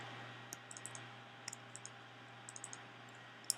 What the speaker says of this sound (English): now what we're going to do is start double-clicking on these edges